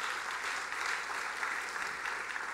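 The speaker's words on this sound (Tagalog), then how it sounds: "Yung pinaka-the best nga ang palakpak sa Lord Jesus." A church congregation claps together in a steady, full round of applause, a continuous wash of hand claps filling the room with no voices over it.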